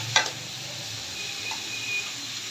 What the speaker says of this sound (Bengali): ইলিশ মাছের বাজার তেলটা দিয়ে মিষ্টি কুমড়াগুলো ভেজে দিই